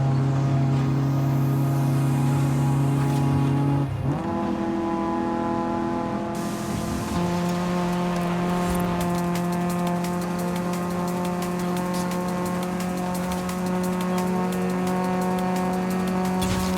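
Old taxi car engine in Forza Horizon 5: a steady droning engine note holds, dips sharply as the gears shift, then settles at a lower pitch with a faint squeal, loud and close.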